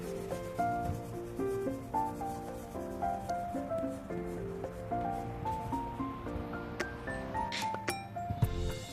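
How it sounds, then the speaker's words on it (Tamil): Colour pencil shading on paper for a crane drawing in a sunset scene, soft repeated rubbing strokes in a close, steady rhythm, with music playing underneath. "இங்கே கீழேயும் ஷேடு."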